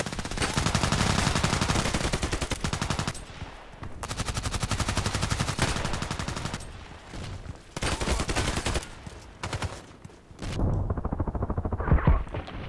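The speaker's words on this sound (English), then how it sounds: "I think I was shooting at him like 3 times, 4 times." Glock 18 automatic pistol fire in the online shooter Contract Wars, rapid dense bursts of shots in quick succession with short breaks between strings, loud and close.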